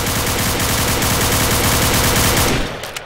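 Sustained rapid gunfire from a video game roleplay server, a loud continuous burst of shots that runs for nearly three seconds and then cuts off abruptly into quiet.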